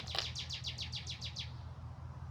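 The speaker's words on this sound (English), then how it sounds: "Y'all hear the red bird talking to me?" A red bird near a porch calls in a quick run of about eight bright, evenly spaced chirps lasting about a second and a half, fairly close and clear over a low steady background hum.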